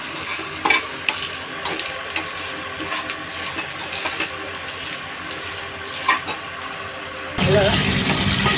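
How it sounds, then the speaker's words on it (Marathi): Onion frying in a pan for a Malvani milk shark curry, a constant sizzle with scraping stir strokes at intervals, swelling louder near the end; a voice is faintly present. "कांदा छान फ्राय झालेला आहे"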